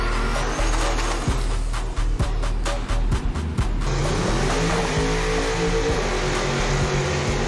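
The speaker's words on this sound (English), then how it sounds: "Donkmaster's driving the green Caprice Cocaine Cowboy" Green Chevrolet Caprice race car in a heads-up eighth-mile drag race roars as it accelerates, loud rapid engine bursts and revving giving way to a rising, sustained pull, with no talk.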